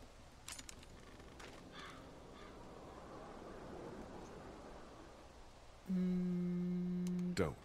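Crow cawing in The Walking Dead video game, a few brief caws early over a hiss of ambient outdoor noise, followed near the end by a loud, sustained tonal game sound.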